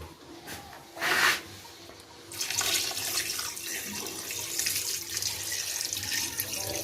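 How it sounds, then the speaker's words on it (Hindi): Water is poured into a pot of desi chicken karahi already holding meat and tomatoes, a steady splashing rush that begins after a brief clatter and keeps running evenly and close by without talk. "इसमें डालेंगे हम पानी।"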